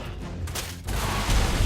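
Rocket launcher fire in ARK: Survival Evolved, aimed at a vanilla wild creature; dull booming blasts rumble low, one thudding around the middle and a heavier burst near the end.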